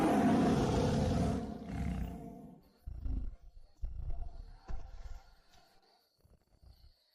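A monster tiger lets out a loud, close roar that trails off, followed by several shorter, lower growling snarls at irregular intervals.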